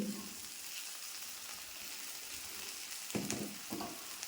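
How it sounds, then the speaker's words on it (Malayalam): Turmeric, ground fennel, chilli and coriander powders frying in oil for an okra curry make a soft, continuous sizzle, quiet and close, broken near the end by two brief scrapes of a spoon. "ഈ എണ്ണയ്ക്കകത്ത് കിടന്ന് മൂക്കട്ടെ"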